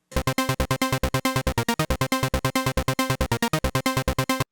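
A Sylenth1 synth bass pattern pulses in fast, evenly spaced staccato steps, with octave-up notes held slightly longer than the others, loud and alone.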